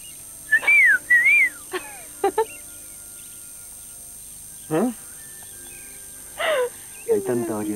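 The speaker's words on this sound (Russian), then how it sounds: "Тебе поют птицы." Birds sing in short, scattered bursts of bright whistled chirps and trills, separated by quiet pauses, fairly close and clear.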